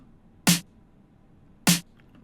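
Two isolated snare drum hits from an electronic production, each a sharp bright crack with a short body, evenly spaced about a second apart, clean and alone.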